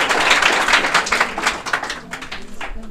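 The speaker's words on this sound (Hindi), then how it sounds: "सपना शर्मा के लिए जोरदार तालियां बजाएंगे और जोरदार तालियां" A class claps loudly for a student at a results announcement. Vigorous, dense applause fills the opening seconds, then thins to scattered claps toward the end.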